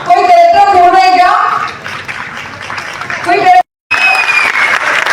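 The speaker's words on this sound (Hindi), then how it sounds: "इनके लिए जोरदार ताली मैं चाहूंगी।" An audience applauds drama performers at a stage play, a spread of clapping that rises and falls beneath someone speaking on a microphone, with a short dropout near the end.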